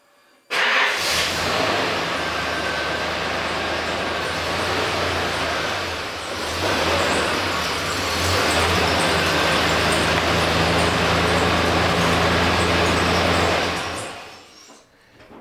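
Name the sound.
Nissan GQ Patrol (Safari) 4WD driving in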